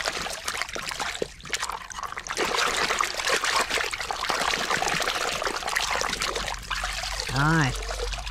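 Water pours and trickles steadily over a dirty yellow toy excavator as it is washed, running continuously at close range.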